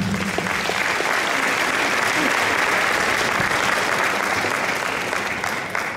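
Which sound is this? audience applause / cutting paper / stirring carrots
audience applause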